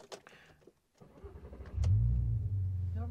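Car with newly upgraded suspension and wheels pulling away, the engine's low hum rising into a steady, fairly loud running drone after a few quieter clicks and movements at the start.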